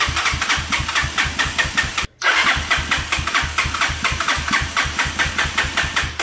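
A stalled engine is restarted and struggles to catch, running with a rough, lumpy, pulsing idle, cutting out for a split second, then firing again and chugging unevenly up close.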